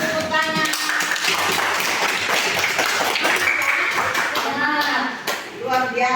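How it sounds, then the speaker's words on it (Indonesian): Children in a classroom lesson clap their hands together in a short burst of scattered, overlapping claps, with voices of the class around it. "Tepuk tangan."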